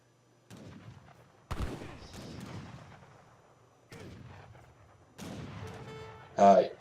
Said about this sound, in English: Unpack the heavy cannons, use them.